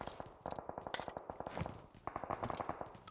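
Rapid automatic gunfire crackles in a battle royale video game, with dense bursts of quick shots playing fairly faintly over a few seconds.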